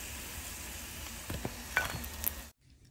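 Sabudana sago bites fry in hot oil, giving a soft, steady sizzle with a few small pops and clinks before cutting off to near silence.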